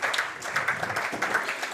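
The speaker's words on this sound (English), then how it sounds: "warm applause around the ground for a captain's innings from Ricardo" Cricket crowd applauding a captain's innings around the ground at a one-day cup match, scattered steady clapping at moderate distance, sustained without talk.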